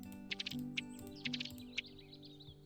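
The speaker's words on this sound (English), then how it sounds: "And apparently ducks sound like this." A duck call, a real recorded bird sound effect in the Wingspan digital board game, gives several short, sharp bursts over a steady bed of quiet game music.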